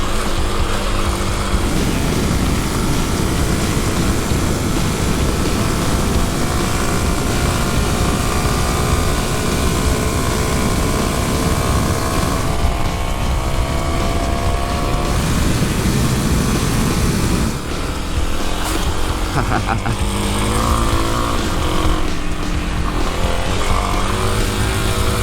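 A 2021 Kawasaki KLX300 SM supermoto revs hard while riding, its single-cylinder engine droning loudly and steadily with rising and falling pitch through gear changes, close and continuous.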